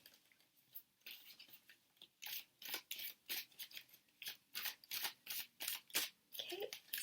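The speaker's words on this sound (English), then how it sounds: "Let me just shuffle these cards and I'm going to place them down again." A deck of oracle cards is shuffled by hand, producing a rapid series of soft, crisp riffling and flicking bursts in a steady rhythm, close and fairly quiet.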